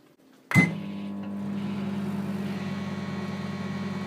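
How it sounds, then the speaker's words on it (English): A microwave oven cooking rice starts with a sharp click and thump, then settles into a steady, close electrical hum that drones on evenly with no speech. "you just place that in your microwave for 10 minutes"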